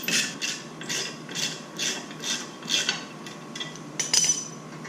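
An M8 bolt is cranked down with a ratchet to press a brake rotor off an Evo X, giving a close series of regular, rhythmic ratcheting clicks, about two per second, with no talking.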